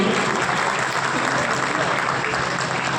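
Vigorous applause from an audience at an honours ceremony, continuous and fairly loud, with scattered voices mixed into the clapping.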